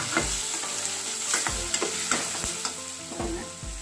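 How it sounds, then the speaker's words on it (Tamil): Grated raw mango sautéed and stirred in a hot pan with tempered chillies for mango rice, a steady sizzle under repeated scraping stirs of a spoon, close and loud, no voices. "நம்ம இந்த துருவி வச்சிருக்க மாங்காயை போட்டு வதக்கலாம்"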